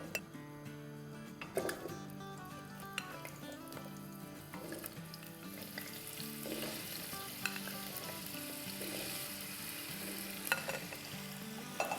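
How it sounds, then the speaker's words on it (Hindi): Cubed potatoes, peeled and washed, fry in a pot with a steady sizzle while a utensil scrapes and stirs at an even rhythm. Some water and tap-like clatter sits in the background, and the kitchen is loud and close throughout. "तो हिलाते रहेंगे, फ्राई करते रहेंगे।"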